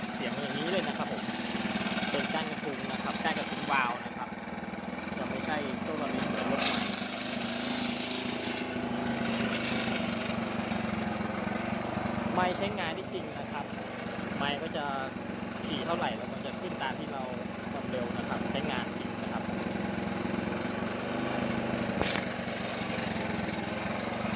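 A Honda C100 motorcycle's stock engine runs at a steady idle, a continuous buzzing putter with faint ticking, close by and unbroken throughout.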